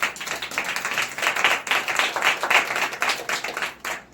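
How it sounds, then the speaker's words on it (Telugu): A church congregation claps together at a Sunday service, a dense run of sharp hand claps with a loose, pulsing rhythm that stays fairly steady for about four seconds and fades at the end, with no talking over it. "చప్పట్లు కొడదాం దేవుడు"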